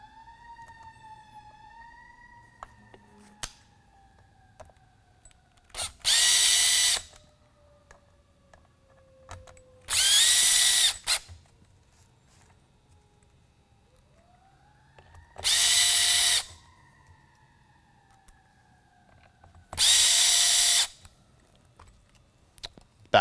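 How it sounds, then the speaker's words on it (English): A power drill drives four mounting screws into the top of a four-switch control box housing, making four loud bursts of about a second each, evenly spaced, with quiet handling noise between them. "And the 4 mounting screws will find their way back into the top here."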